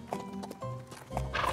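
A cartoon horse whinnies loudly with hooves clip-clopping in quick rhythm, a short bright burst up close.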